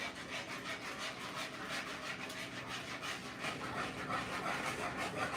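Whisking buñuelos de molde batter with flour in a bowl, a quick rhythmic scraping and swishing that repeats steadily throughout, close and fairly quiet.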